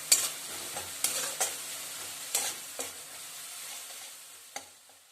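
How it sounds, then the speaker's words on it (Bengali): Spices are stir-fried in a pan over a raised gas flame for a tomato and potato dish, with a soft, quiet sizzle and several sharp scrapes of a spoon stirring at an uneven rhythm. "আমি গ্যাসটাকে বাড়িয়ে মশলাটাকে একটু কষিয়ে নেব।"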